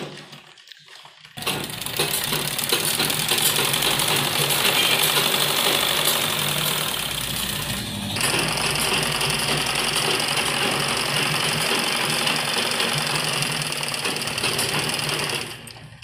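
A sewing machine stitches along the folded hem of a kitchen apron, running in a steady, close, continuous whir after a brief quiet start, with a short dip in pace partway through.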